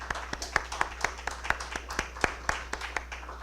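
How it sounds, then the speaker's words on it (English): A small audience at a governance panel discussion claps, faint individual claps landing in a steady, even rhythm over a low electrical hum. "Let's give them a round of applause."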